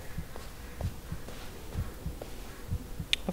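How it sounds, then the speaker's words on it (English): Low, soft thumping heartbeat from the Blair Witch video game, a slow steady double pulse repeating about every second, muffled and close, with a brief sharp click near the end. "I hear my heart beating"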